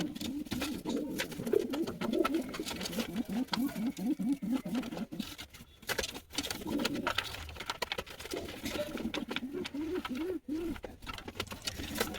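Pigeons of the lotan breed coo in a home loft, repeated soft throaty rolling calls in bursts, close and low, with light rustling and wing shuffles between phrases.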